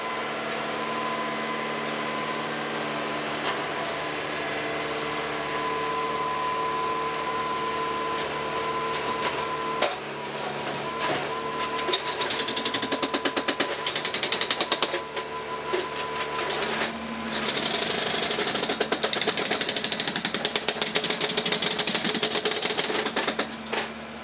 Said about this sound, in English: Now that the new ties are in, a spiker secures the rails.